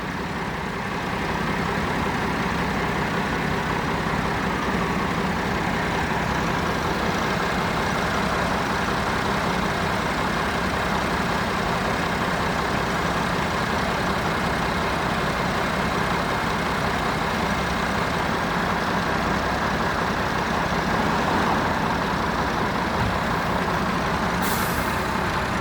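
Heavy trucks rumble and idle steadily throughout at a fuel protest in Mallow, County Cork, a dense low engine drone with traffic noise and a brief air-brake hiss near the end, no talking.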